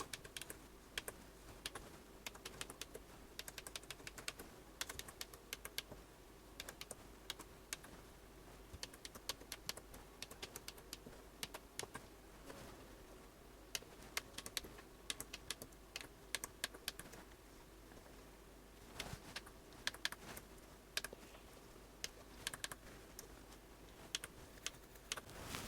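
Steady rapid key presses on a Minstrel 4D kit computer keyboard, a Jupiter Ace compatible build, clattering close and continuous as each key is tried in turn, with no voices.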